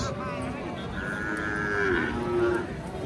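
A young native desi calf lets out a drawn-out moo with a rising, then falling tone, over a noisy outdoor cattle market background.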